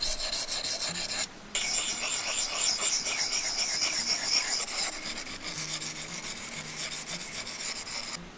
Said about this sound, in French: Donc ça, c'est pour aiguiser le couteau.